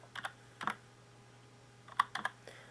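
Sparse keystrokes on a computer keyboard while code is typed, a few short clusters of quiet clicks separated by pauses over a low steady hum.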